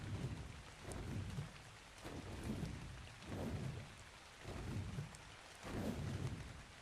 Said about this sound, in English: This rain's making it hard for me to see.